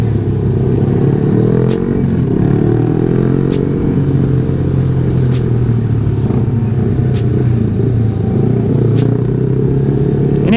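A 2020 Yamaha R15 V3 motorcycle ridden through Indonesian traffic near a market, its engine a close, steady buzzing rumble with clattery ticks and passing vehicle noise throughout.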